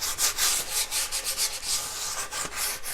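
A wooden furniture piece is lightly hand-sanded before chalk painting, with close, rhythmic back-and-forth rasping strokes, about four per second, and no talk.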